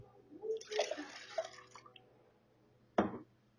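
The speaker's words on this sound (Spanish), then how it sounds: "Voy a agregar una taza de agua fría." A cup of cold water poured into dissolved gelatin in a pot: a soft, steady splashing pour lasting over a second, then a short slosh a moment later, all fairly quiet with no talk.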